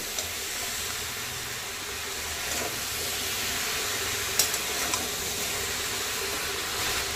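Spiced vegetables for bhoger labra are stirred in a pan over a steady sizzle and hiss, with a few faint scraping knocks, close up and without speech.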